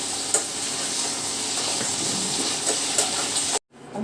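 Ivy gourd sautéing in oil gives a continuous close sizzle with occasional stirring scrapes, then cuts off abruptly near the end.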